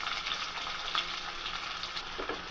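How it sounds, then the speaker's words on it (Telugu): Chopped onions frying in hot oil with spices for a chicken curry, a steady broadband sizzle with a few soft stirring scrapes, moderately quiet and continuous with no talking. "ఈ విధంగా ఆనియన్స్ని త్వరగా వేయించుకోండి"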